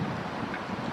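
Wind buffets a microphone outdoors in hot, windy Ashgabat, Turkmenistan, as a steady, dense low rumble that fills the short moment without any voices.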